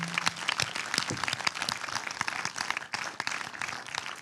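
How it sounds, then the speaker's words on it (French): Steady applause from a film festival closing-night audience fills the space, dense and continuous, with scattered sharper claps standing out throughout. "J'espère que vous entendez les applaudissements"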